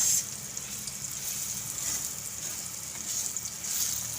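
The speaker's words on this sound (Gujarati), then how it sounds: "હવે આપણે આને હલાવીશું ગેસ આપણે ધીમો કરી નાખીશું ધીમા ગેસે આપણે આને તેડવાનું છે" Mung bean flour roasting in a pan over a low flame for ladoo, giving a steady, soft, close sizzle with faint stirring scrapes throughout, no voices.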